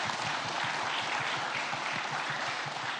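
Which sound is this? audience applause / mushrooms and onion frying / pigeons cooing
audience applause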